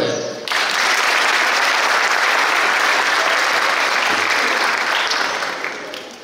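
Loud, sustained applause from a large audience at a graduation ceremony bursts in and holds steady, a dense wash of clapping that tapers slightly toward the end.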